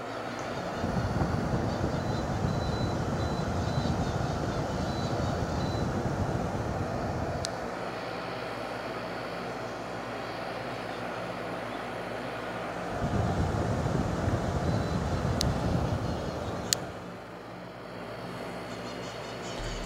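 A Philco 12000 BTU 127V portable air conditioner runs with a constant airy whoosh of strong airflow, its low motor hum dropping away midway and then kicking back in.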